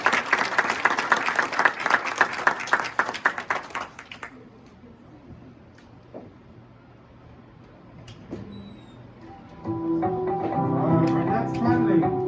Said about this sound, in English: So let's give Anthony a round of applause